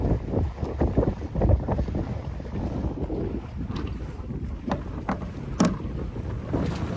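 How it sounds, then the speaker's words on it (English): Steady wind buffeting the microphone on a sailboat under way, with waves sloshing and slapping against the hull in irregular bursts, loud and continuous with no talking. "the winds are picking up. Waves are picking up again."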